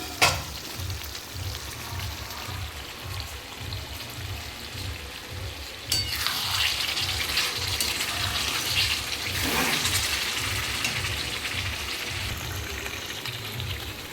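Mutton sautéing for kosha in a covered pan makes a muffled, continuous sizzle with a steady bubbling pulse underneath, which grows brighter and louder partway through as the lid is moved.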